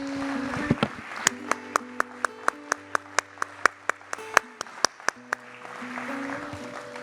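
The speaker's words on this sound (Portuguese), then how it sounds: "Já vamos aplaudir esse momento tão lindo dessa igreja" A church congregation clapping together in a steady, evenly spaced rhythm of sharp claps, with a sustained musical tone underneath and quieter murmur before and after.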